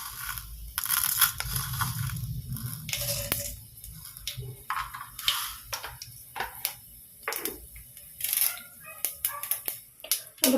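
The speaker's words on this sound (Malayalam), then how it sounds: "അപ്പോൾ കടുക് പൊട്ടി" Mustard seeds popping and spluttering in hot oil for a Kerala okra milk curry, irregular sharp crackles and clicks close up, scattered bursts with quiet gaps between.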